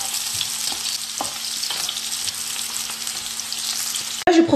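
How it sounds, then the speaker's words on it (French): Thinly sliced onions sizzle steadily in a hot pan as they caramelize, a continuous crackling hiss broken by a sharp scrape or stir near the end. "J'ai coupé un oignon en fines lamelles. Je vais les caraméliser."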